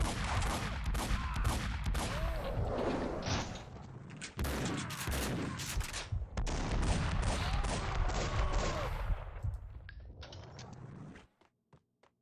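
Rapid bursts of gunfire in the shooter game Max Payne 2 rattle almost without a break for about eleven seconds, loud and close, then stop abruptly.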